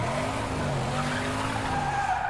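A car in the Mad Max game slides through a sharp turn, tyres skidding in a continuous loud hiss over a steady engine drone.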